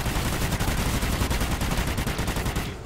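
Continuous automatic gunfire in the video game Extinction Point of Contact, a dense rattling barrage that runs almost the whole time at steady loudness before cutting off near the end.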